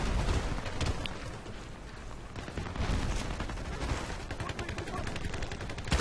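Gunfire in the online shooter Battlefield Play4Free on the Basra map: dense, continuous automatic fire and overlapping shots fill the whole stretch, loud and close, with battle noise churning underneath.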